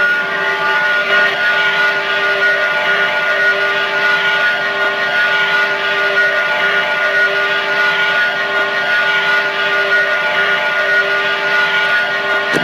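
A locomotive whistle blows as one long, steady, piercing tone that holds loud and unbroken for the whole stretch, with no talk over it.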